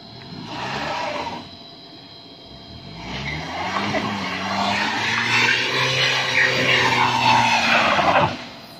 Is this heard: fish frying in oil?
no